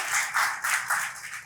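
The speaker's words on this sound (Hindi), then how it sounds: "एक बार जोरदार अपने लिए ताली बजाएंगे" Audience clapping at a youth memory-power workshop, a short rhythmic burst of claps in a few pulses, fairly close and alone.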